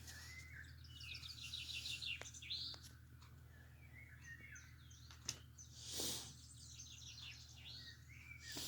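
Bird songs and chirps played back from a computer, faint repeated trills and tweets over a steady low hum, with a sharp click and a brief rustle midway.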